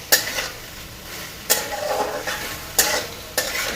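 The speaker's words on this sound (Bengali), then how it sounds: "এরপর ভালোভাবে নাড়িয়ে নিচ্ছি যাতে সসগুলি সমস্ত ভেজিটেবলসের সাথে ভালোভাবে মিশে যায়" Vegetables and sauces are stirred in a frying pan over medium heat for chicken Manchurian. Four distinct scraping strokes cut through a constant low sizzle, close and fairly loud.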